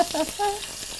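Onion paste frying in hot oil in a home kitchen pan, a short close sizzle with brief clatter of stirring, no voices.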